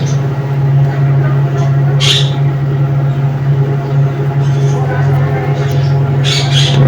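Pet yellow and green budgerigar parrots in a cage give several sharp squawks in short bursts, near and fairly loud over a constant low electrical hum.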